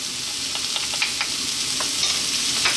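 Garlic hits a pan of frying cabbage and egg and sizzles in a loud, steady hiss, with scattered scraping clicks of stirring close by, no speech.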